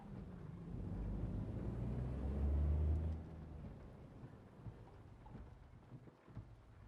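Rain and rolling thunder heard from a Freightliner truck in a night-driving truck simulator, a low rumble building and peaking around the middle before fading into steady rain hiss and engine drone.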